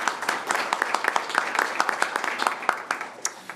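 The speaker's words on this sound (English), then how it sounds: "Could we all give them a round of applause for making this event possible?" An audience gives a short burst of applause for event sponsors at a legislative crackerbarrel forum, many hands clapping in a quick, dense patter.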